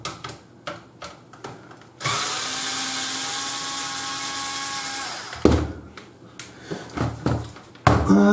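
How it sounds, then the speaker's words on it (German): Bosch IXO cordless screwdriver with a PH2 bit opening the casing of a device, several short clicks and handling knocks around a sustained three-second whir of the slow-turning motor, then more taps and a brief buzz, close by. "dafür verwenden wir hier den braven kleinen IXO. PH2 passt."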